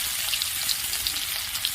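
Chopped onion hits hot oil with panch phoron for a Bengali banana-flower dish, giving a steady, close hissing sizzle with small crackles throughout and no talk.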